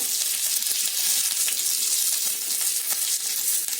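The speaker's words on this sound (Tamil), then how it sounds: "கருவேப்பிலையை ஆட் பண்ணிட்டு கொஞ்ச நேரம் ஃப்ரை பண்ணிக்கோங்க." Curry leaves fry in hot oil for a restaurant-style coconut chutney tempering, giving a loud, continuous, dense sizzle with no pauses.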